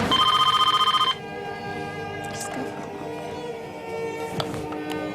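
A telephone rings loudly in a fast trilling burst for about a second and then stops, leaving quiet room tone with faint clicks.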